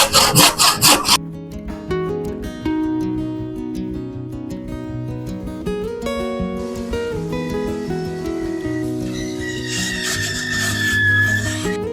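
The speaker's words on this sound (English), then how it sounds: "Now I'm gonna get the handsaw and cut the rest of it out." An old, century-old handsaw cuts through wood, opening with a few quick strokes and then settling into steady rasping back-and-forth strokes, close and fairly loud.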